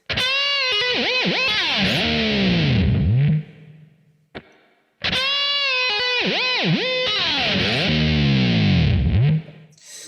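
Distorted electric guitar plays the closing run of a solo: whammy-bar dives and swooping harmonics, loud and close, in two long phrases split by a brief near-silent break.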